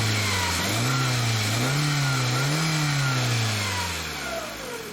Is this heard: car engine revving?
yes